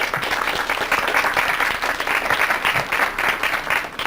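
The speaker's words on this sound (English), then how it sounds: "I'd like you all to give the Neale family a round of applause for coming down." A classroom audience gives a family a steady round of applause, dense and even clapping filling the room at close range with no speech over it.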